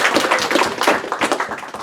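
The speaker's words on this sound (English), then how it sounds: "I'm applauding your questions." A lecturer clapping his hands during an astronomy talk, a quick run of close, sharp claps with uneven rhythm.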